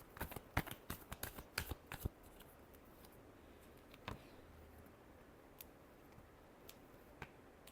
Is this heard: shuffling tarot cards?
yes